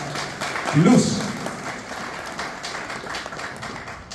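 A festival crowd at a Paraguayan duo music festival applauds steadily, a continuous wash of clapping beneath a presenter's voice throughout.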